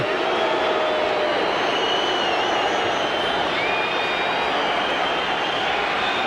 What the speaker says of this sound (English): That's a gusty boo. That's a nice boo he's getting.